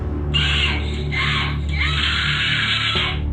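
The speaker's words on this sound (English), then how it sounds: "She just screaming in rage at the top of her lungs." A girl screams in rage, with several long, harsh, piercing shrieks in a row, loud and close, over a low background hum.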